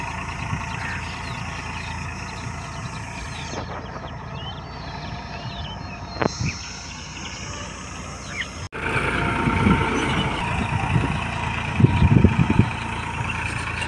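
A Farmtrac 60, a 60 hp tractor, drags a land leveler across a field, its diesel engine droning steadily nearby with clanks and a sharp knock, then a rougher, louder stretch of labored running.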